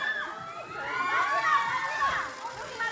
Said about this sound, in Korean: 진짜 정말 크게 지르시네요.